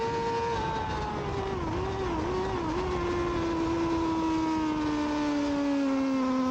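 A Yamaha R6 racing motorcycle screams along the back straight of a Pro Open Sprint road race, a loud continuous high engine whine holding steady with a slight dip and rise as another bike passes close by.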